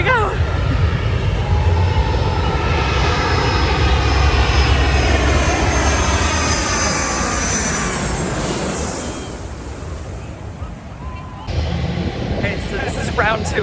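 Passenger jet arriving from Philadelphia, landing low over Maho Beach on St. Maarten: a loud, close roar of engines swelling and sweeping past overhead, then fading and leaving rushing wind, with people talking beneath it.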